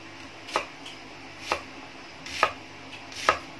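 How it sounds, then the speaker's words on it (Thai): A knife chops red shallots on a board in a home kitchen, four sharp, evenly spaced cuts in a quiet room with no talk. "อันนี้หั่นเราก็จะไปคั่วขึ้นนะครับ"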